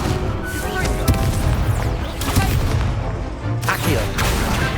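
Incendio fire spell cast in the Hogwarts Legacy video game: several loud, booming whooshes of flame burst out one after another, close and forceful, with rumbling tails between them.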